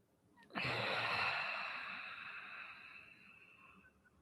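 A single long exhale during gentle hatha yoga, starting with a sudden rush of breath and fading slowly over a few seconds, close and soft with no talking.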